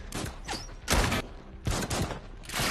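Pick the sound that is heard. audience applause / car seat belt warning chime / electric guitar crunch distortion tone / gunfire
gunfire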